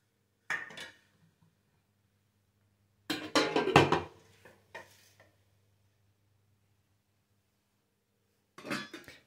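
A metal spoon clinks and scrapes against an idli mould and plate in a few short, close bursts separated by silence, as idlis are lifted out and set down.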